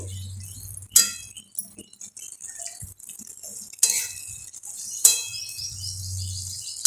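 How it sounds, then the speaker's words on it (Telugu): Gongura leaf curry being stirred in a pan, with a few sharp clinks of a utensil against the pan standing out over soft scraping and stirring, a steady low hum beneath. "గంగవాయిల్ కూర వేసేసిన తర్వాత ఒకసారి దీన్ని మంచిగా మిక్స్ చేసుకోవాలి"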